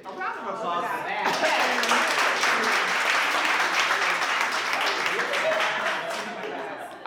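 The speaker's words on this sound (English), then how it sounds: "A round of applause for that." Studio audience at a live interview show breaks into applause, a thick wash of clapping that swells quickly, holds steady and fades slightly at the end, with some laughter mixed in.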